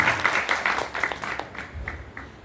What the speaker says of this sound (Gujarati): ચેતનરામજી મહારાજને એકવાર જોરદાર તાળીથી ઉઠાવો